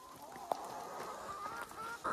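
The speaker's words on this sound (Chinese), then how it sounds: "这么多小鸡啊" A large crowd of chickens clucks and calls in a busy, steady din, with one sharp nearby squawk early on and louder honk-like calls toward the end.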